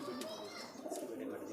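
A pigeon coos softly and repeatedly in a quiet outdoor setting, faint low calls with a little chirping around them, while someone talks over the birds.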